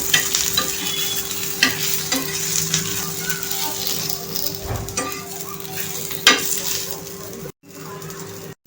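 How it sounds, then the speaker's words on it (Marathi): Onions sautéing in oil in a pan for a Maharashtrian potato curry, a steady close sizzle with repeated stirring scrapes and occasional utensil clinks, no talk. "आता इथं आपण थोडंसं तेल टाकणार आहोत आणि ह्यांना छानपैकी परतणार आहोत"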